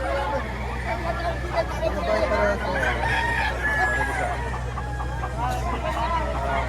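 A bull stag, a young rooster of medium size but heavy build, crows at a poultry sale in Padre Garcia, Batangas, amid a murmur of crowd chatter and a constant low hum.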